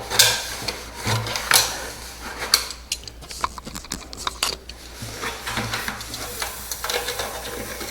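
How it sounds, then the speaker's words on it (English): A plastic five-gallon bucket's cut edge being deburred by hand, giving irregular scraping and rasping strokes with small knocks and clinks, close and fairly quiet, with no talk. "Now we're going to take the burrs off."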